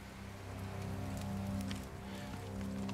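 Steady rain pattering on surfaces during a storm in Tomb Raider (2013), a soft continuous hiss with scattered droplet ticks over a low hum, fairly quiet and unbroken.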